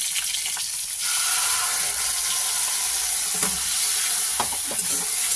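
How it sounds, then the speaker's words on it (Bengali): Spices tempering in hot oil for a Bengali potato and eggplant curry crackle and sizzle steadily, with a few sharper pops and stirring clatters near the end, no voices. "ফোড়নটা আসুক ভালো করে গন্ধ বেরিয়ে যায়"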